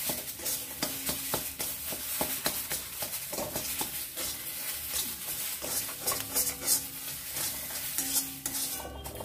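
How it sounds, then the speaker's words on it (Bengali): Continuous scraping and stirring of mashed green pea filling for kachori in a pan, with steady gentle sizzling and occasional utensil knocks against the metal, close and fairly loud throughout with no talk. "মটরশুঁটির এই পুরটা একটু রেডি করতে সময় লাগবে, তাই কন্টিনিউয়াস 5-7 মিনিট নাড়াচাড়া করবার পর এটা রেডি হয়ে যাবে"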